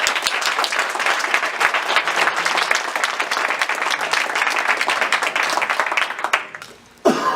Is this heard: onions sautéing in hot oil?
no